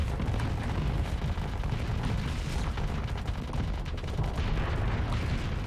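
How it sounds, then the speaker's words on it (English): In the space combat game Starsector, cluster missiles burst into swarms of anti-armor missiles, making a dense, continuous rumble of explosions and booming impacts that stays loud throughout. "these missiles in particular here, they burst into a cluster of anti-armor missiles"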